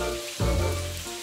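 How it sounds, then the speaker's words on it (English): Steady rain hisses across a surface for a brief moment, with a low thudding swell partway through. "It's raining and we don't need to water anymore"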